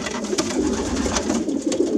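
Pigeons (Jansen breed) cooing close by, soft throaty calls repeating over a busy background of rustling and flapping, with no one talking.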